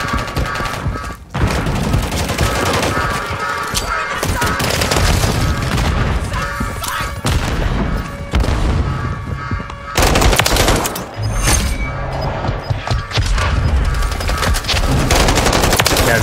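Grenade blasts and rapid gunfire in the Modern Warfare 3 war mode, dense and loud throughout with bursts of automatic fire, heavy booms and brief quieter gaps.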